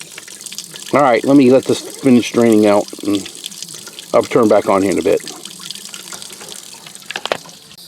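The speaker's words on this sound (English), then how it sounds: "That's a half a tank of fuel I'm dumping out right now." Water-contaminated diesel draining from a Kubota L2350 tractor's fuel tank into a bucket, a steady close liquid pour running continuously beneath a man's speech.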